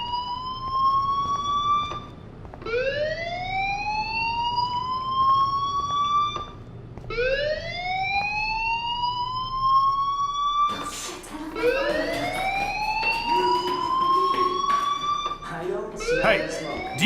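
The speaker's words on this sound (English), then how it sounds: "do you hear that fire alarm?" Fire alarm ringing inside the video game Life Is Strange, a loud rising electronic siren tone that sweeps upward in repeated cycles, continuous and prominent throughout.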